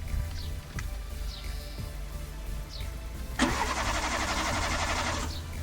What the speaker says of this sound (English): by turning on your engine without providing fuel, you are at least removing the max possible of fuel that you have in your lines